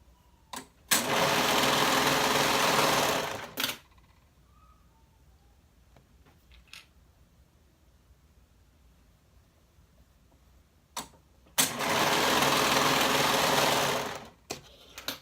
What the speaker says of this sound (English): stitch the shoulder seams with a 1/2 inch seam allowance